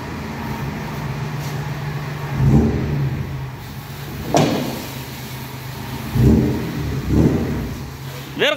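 A V6 off-road vehicle runs on sand dunes, its engine droning steadily with several short bursts of revving spaced a second or two apart, close and fairly loud, with no talk over it.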